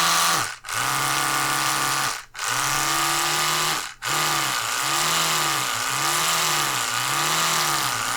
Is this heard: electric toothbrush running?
yes